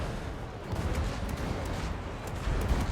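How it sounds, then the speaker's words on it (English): Rocket strikes and small secondary blasts from Death Shrieker artillery in the fantasy strategy game Total War: Warhammer 2, a dense, continuous rumble of distant explosions and crackling impacts with no clear pauses. "they like hit with a rocket, then they have little secondary explosions which blast off of it"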